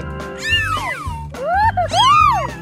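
Cartoon kittens let out two drawn-out, rising-and-falling meows in quick succession, loud and close over a soft musical backing.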